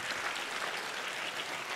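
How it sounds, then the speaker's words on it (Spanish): Church congregation applauding the Lord during a sermon, a steady dense wash of clapping throughout at moderate level with no voices. "dale fuerte ese aplauso al Señor"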